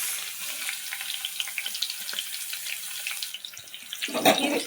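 Garlic and ginger roast in a hot pan, giving a continuous close sizzling hiss with light crackles, swelling briefly louder near the end as something is stirred or added.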